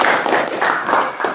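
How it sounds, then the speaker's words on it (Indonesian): Students in an Indonesian classroom clap for a classmate named Putra, a short burst of brisk, close applause from a small group, loud and even throughout. "tepuk tangan untuk Putra"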